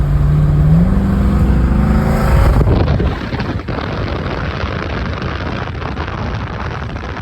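The engine of a 1972 Chevrolet Chevelle SS clone rumbles loud and close in a steady, deep drone, with a brief swell before settling under gusty wind noise.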